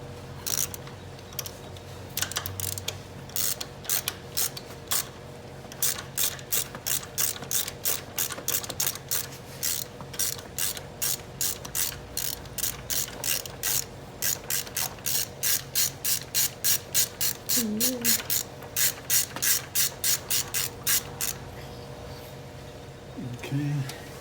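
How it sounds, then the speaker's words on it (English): A ratchet wrench loosens spark plugs on a 2002 Toyota 4Runner, giving long runs of crisp, close, rapid clicking in rhythmic bursts with short pauses between strokes. "This is like my favorite ratchet ever."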